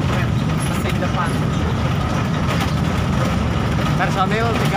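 A front-engine Luragung Jaya bus driving along the Pantura route, a continuous rumbling engine and road roar under people talking inside the cabin.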